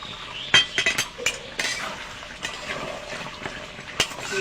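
Chicken kosha with garam masala paste being stirred in a pot, with sharp metallic spoon scrapes and clinks repeating irregularly over a faint background, no voices.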